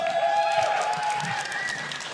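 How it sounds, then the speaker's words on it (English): Crowd applause rises as a dense patter of claps, with a sustained tone and some murmuring voices underneath, at a League of Legends esports match. "the applause is uh, very much merited"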